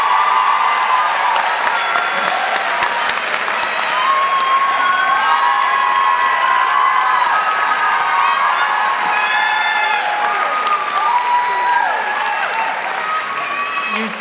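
An audience at a university commencement ceremony in the MGM Music Hall applauds the faculty and staff, producing sustained, loud clapping from a large crowd with a few cheers and shouts mixed in.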